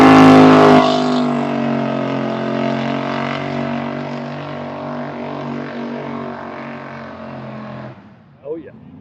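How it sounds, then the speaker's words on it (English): A car doing a burnout at a roadside car event roars loudly with a sustained, rising engine whine that slowly fades. The engine cuts off near the end, followed by a brief faint rustle. Nobody talks. "We got more burnouts."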